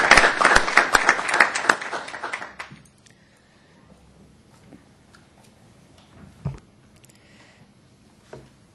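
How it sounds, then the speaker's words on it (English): Audience clapping for a winning school team at a Monetary Policy Committee meeting, a dense burst of applause for about three seconds that dies away into near silence with a few scattered taps. "I think we can just give them a round of applause"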